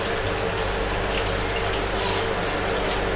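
A washroom tap runs in a public toilet, giving a steady, close hiss of flowing water for a few seconds with no talk.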